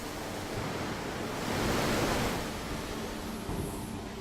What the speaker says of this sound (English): In order to cleanse the surface, water is sprayed at high pressure